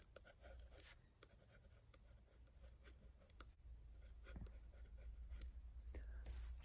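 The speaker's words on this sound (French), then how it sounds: "je vais déjà vous écrire le nombre de rangs" A pen scratching across paper as crochet row counts are jotted down, close and quiet, with soft strokes and small taps in an uneven rhythm under faint breathy whispering.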